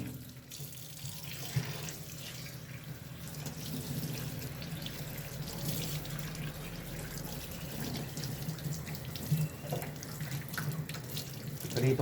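Tap water runs steadily into a sink while tilapia fish are being cleaned, a continuous soft splashing wash with faint clinks, at low volume and with no talking.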